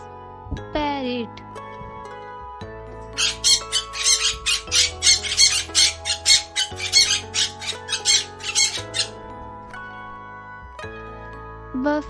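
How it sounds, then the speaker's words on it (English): A parrot squawks in a rapid string of harsh, raspy calls in the middle of the stretch, set against a cheerful children's song backing with a brief sung phrase at the start. "Parrot. This is parrot."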